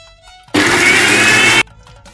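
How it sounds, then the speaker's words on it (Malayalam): Mixer grinder grinding cumin and a pinch of mustard seed into a paste for Kerala Onam sadya pachadi and kichadi, a loud steady whirring blast lasting about a second, starting and stopping abruptly. "ഇത് ചേർത്ത് നമ്മളൊന്ന് അരച്ചെടുക്കുക, നല്ലോണം അരച്ചെടുക്കുക"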